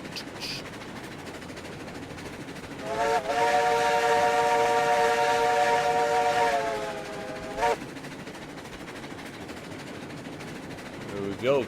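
A locomotive in the RailRoads Online video game sounds a loud, steady steam whistle for about three and a half seconds, with short toots before and after, over rolling train rumble.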